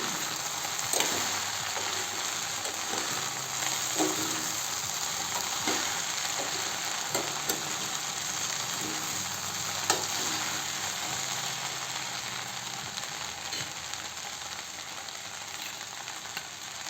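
Okra fries and sizzles in a pan with salt while being stirred: a steady close hiss with irregular scraping stir strokes throughout, no voices.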